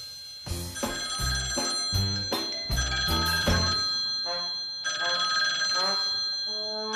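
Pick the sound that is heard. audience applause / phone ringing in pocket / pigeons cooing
phone ringing in pocket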